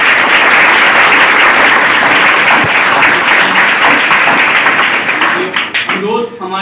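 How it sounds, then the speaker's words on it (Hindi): An audience applauds a company founder at a training session, a loud, dense burst of clapping from many hands that thins out and breaks into scattered claps near the end. "आप सभी लोग मीठी मीठी तालियों से स्वागत करें।"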